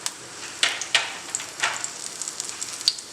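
Spices dropped into hot oil for a Peshawari chicken curry crackle and sizzle with a steady hiss and a few sharp pops, close and moderately loud, with no talking.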